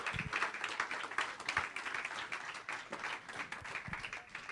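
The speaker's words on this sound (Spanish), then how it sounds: "vamos a recibir con un cariñoso aplauso a nuestra hermana Astrid Amaya" Congregation applause at an evening Mother's Day church service, a steady wash of many hands clapping in a hall with some individual claps standing out, continuous throughout.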